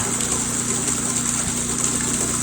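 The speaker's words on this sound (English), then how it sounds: "pump's pumping, water's coming in, going into my valve" A homestead water pump runs steadily up close, a constant mechanical hum with a gushing, rushing flow of water feeding into a valve, sustained without pause and no talking.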